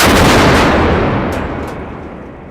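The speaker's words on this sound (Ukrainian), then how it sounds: "Постріл!" A loud, heavy boom from a Ukrainian 2P22 Bohdana-BG towed howitzer firing, already roaring at the start, then rolling and fading slowly.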